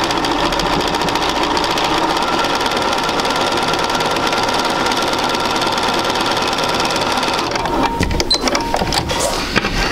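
Sewing machine stitching a quilt block seam, a fast steady mechanical whirring and needle chatter, close and continuous, stopping near the end with a few handling clicks.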